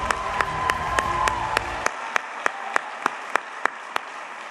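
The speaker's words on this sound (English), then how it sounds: "Let's give one more round of applause for Allison Young" Applause for teacher Allison Young at a Teacher of the Year celebration, full crowd clapping that stops abruptly and gives way to a few loud, isolated claps at a steady rhythm.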